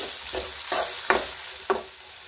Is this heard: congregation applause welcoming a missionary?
no